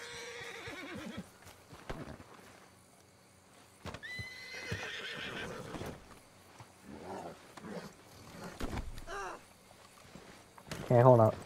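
A horse whinnies and snorts amid clopping hooves and game-like effects in the video game Red Dead Redemption 2, with a sharp loud burst near the end.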